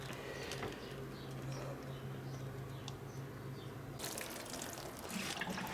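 Seeds pressed onto a dry seed tray get watered in, a steady soft trickle and splash of water close by, continuing throughout and rising into a brighter spatter of water toward the end.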